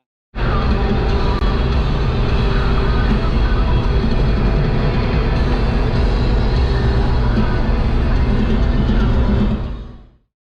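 A Mazda Miata with a Racing Beat single exhaust drives on Route 64 toward Deals Gap, giving a loud, steady, close-up roar that holds for about nine seconds before cutting off, with no voices heard.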